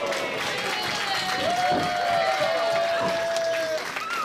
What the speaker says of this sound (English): Crowd behind Delilah here.